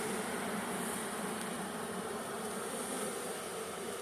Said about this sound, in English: There's all kinds of bees crawling underneath that.